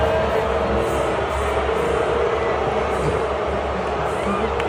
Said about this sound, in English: why are these people booing me?